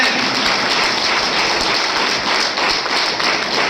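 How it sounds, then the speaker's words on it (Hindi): An audience at a gathering in Ranchi claps loudly and steadily for nearly four seconds, a dense, continuous patter of many hands filling the space with no talking over it. "तो मैं चाहूंगा अपने लिए एक बार जोरदार ताली बजा दीजिए प्लीज।"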